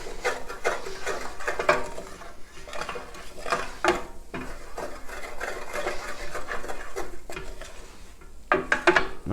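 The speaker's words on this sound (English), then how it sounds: "Just mix that all together." A spoon stirs a pot of macaroni and cheese made with gouda and bacon, giving repeated scraping clinks of utensil on cookware in an irregular rhythm, close and fairly loud throughout with no talking.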